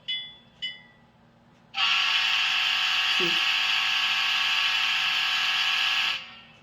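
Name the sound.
model locomotive horn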